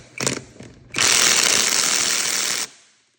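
Impact wrench hammering loose front wheel studs on a Pontiac Firebird: a short burst, then a steady loud rattling run of about two seconds that stops abruptly, close up and alone.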